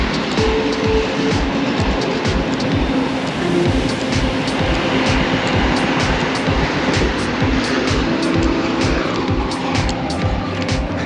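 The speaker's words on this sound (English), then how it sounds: "There's the intercity commuter train." An intercity commuter train rumbles past steadily and loudly, a continuous roar of wheels on rails with rattling clatter throughout.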